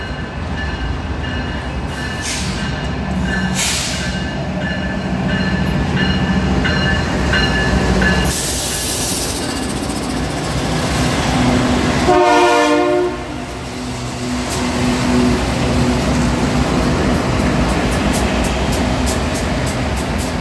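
A BNSF ES44EC freight locomotive rumbles past loud and close, its horn blaring in a long blast early on, followed by steady rolling wheel and engine noise with a brief squeal midway.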